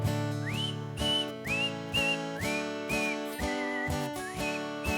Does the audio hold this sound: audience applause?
no